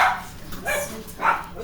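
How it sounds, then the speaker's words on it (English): A dog barks in a few short, fairly loud bursts spaced apart, close to the listener, with no talking over it. "Don't you bark at me."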